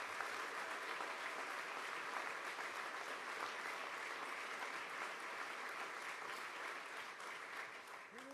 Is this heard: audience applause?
yes